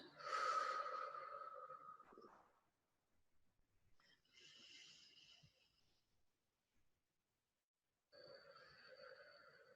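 Slow, deep breathing near and quiet: a long inhale, a softer exhale after a pause, then another breath starting, with silence between.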